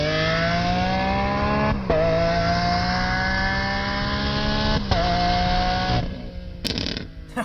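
A loud Lamborghini Countach engine roars and revs at high pitch, rising steadily with brief gear-shift dips, then fading with clicks near the end.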